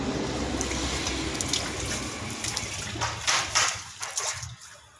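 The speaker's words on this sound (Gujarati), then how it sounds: "અત્યારે મેં મોઢું ધોઈ નાખ્યું, મસ્ત ઠંડુ પાણી છે।" Someone splashes their face with cold water from a running tap outdoors. Close, steady water noise with splashes rising near the end, then fading quickly into quiet.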